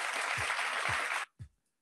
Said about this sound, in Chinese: 给他掌声一下